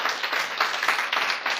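Churchgoers at a Korean church seminar clap together in praise, a brief burst of quick, uneven handclaps with distinct individual claps standing out, heard close and without talk.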